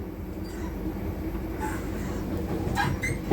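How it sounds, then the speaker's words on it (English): A commuter train running on a London line toward Waterloo, with a steady rumbling ride noise and a few faint higher squeaks near the end, heard alone without voices. "This train is for London Waterloo."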